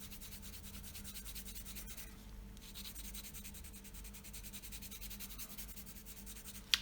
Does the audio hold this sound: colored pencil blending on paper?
yes